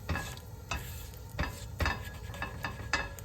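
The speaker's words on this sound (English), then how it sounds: "Give it a couple scrapes." A spatula scrapes messy egg off a Made In skillet in several rhythmic strokes over a soft sizzle, close and fairly quiet, with no talking.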